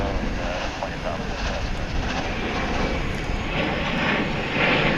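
An American Airlines Boeing 737-823 at DFW airport gives off a continuous broadband engine roar, steady and fairly loud, that swells slightly toward the end, with radio chatter faintly under it.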